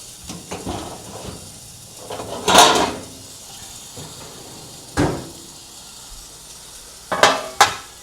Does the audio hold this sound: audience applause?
no